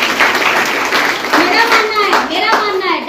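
Audience clapping at a direct-selling company training event in Bihar, a dense steady patter of many hands close by, with talk and a voice mixed in.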